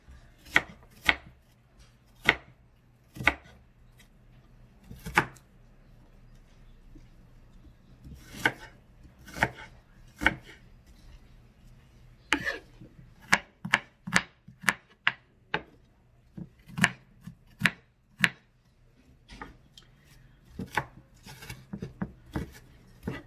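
An onion being chopped on a cutting board for smoked sausage and cabbage, a steady run of sharp knife strikes in quick irregular bursts, close and clear with no talking.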